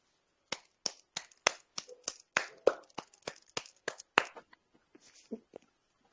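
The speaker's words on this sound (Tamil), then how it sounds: "இனிதாய் அமைந்த இந்த தியானத்திற்காக பிரபஞ்சத்திற்கு நன்றி கூறி கரகோஷம் எழுப்புவோம்." A small group claps after a meditation session: sharp, separate claps in a quick uneven rhythm, fairly close, then a few softer scattered claps trailing off into quiet.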